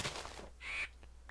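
A crow cawing in a modded Minecraft world, one clear harsh caw in the middle of the clip, with faint scratchy game noise around it.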